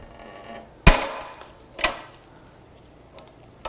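A 17 mm socket wrench breaks loose an engine bolt on an S8 D2 engine being stripped. Two sharp metallic cracks roughly a second apart sound close up, with faint clicks and creaks around them.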